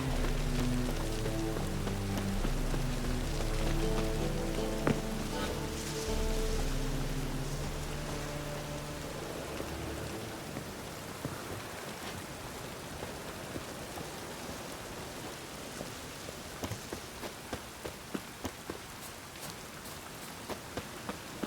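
Steady rain falls in a dark fantasy role-playing game, a dense continuous hiss of drops that is loudest at first and thins slightly later, with a few sharp patters near the end and no speech.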